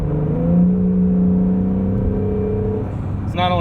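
A 2020 Acura NSX engine in Sport Plus mode hums steadily from inside the cabin, a sustained low drone with a rising tone as it holds a lower gear, ending in a brief burst of rev.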